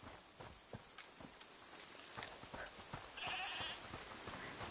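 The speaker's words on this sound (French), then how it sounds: "c'est la chèvre du monsieur?" A goat in A Plague Tale Requiem lets out a short bleat midway through, set against footsteps and clattering game ambience.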